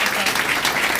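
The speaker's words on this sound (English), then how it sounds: "Please give this panel a round of applause." An audience applauds a panel at an impact-investing event on regenerating the food system, with steady, dense clapping filling the whole second at close range and no pauses.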